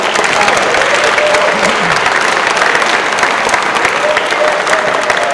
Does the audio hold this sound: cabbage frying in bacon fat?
no